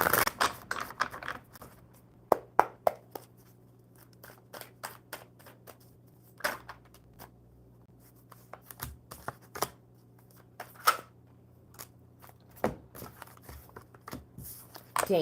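Tarot cards being shuffled by hand during a live reading, with scattered soft riffling bursts and sharp card snaps spaced irregularly over a quiet room hum and no talk.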